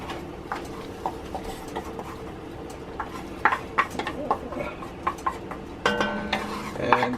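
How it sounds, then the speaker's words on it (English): A spoon stirs flour into a chicken and mushroom sauce in a cast iron pot, giving soft scraping and knocking sounds in an irregular rhythm, with faint sizzling underneath. "Stir that till smooth."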